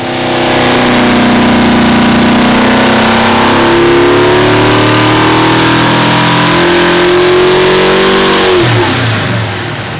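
A Pontiac 461 stroker V8 engine roars at full load on a dyno, loud and close, its pitch climbing steadily through a long sustained pull before dropping sharply as the throttle closes near the end.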